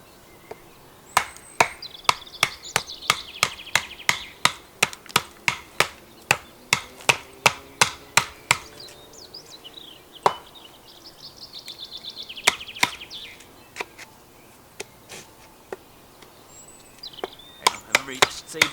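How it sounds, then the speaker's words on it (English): A Scandi-ground A2 steel knife, the LTWK Genesis, is driven through pinewood by batoning, producing a long run of sharp, evenly spaced wooden knocks close by, pausing briefly midway, with birds chirping faintly in the background outdoors. "battening is not really an activity designed for a knife"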